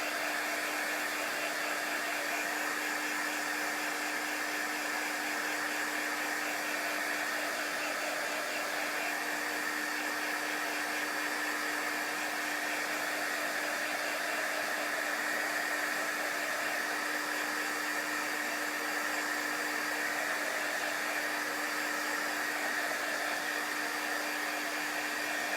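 A hair dryer blows on chalk-painted pumpkins in a steady, loud, unbroken roar that holds at one level for the whole stretch, with no voices.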